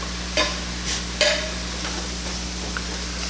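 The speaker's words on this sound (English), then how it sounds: "everything is sauteing nicely. Honey, you may want to give that a stir." Spinach sautéing in a pan gives a continuous soft sizzle, with a couple of scraping clicks of stirring over a low steady hum.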